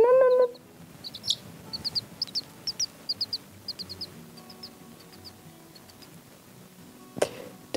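A newly hatched chick peeping in a close, steady series of short, high chirps, spaced at a regular rhythm, with a brief louder squawk near the start and end.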